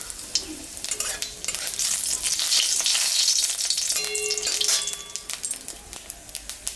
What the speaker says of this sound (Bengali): শুকনো লঙ্কা জিরা সম্বরা দিলাম।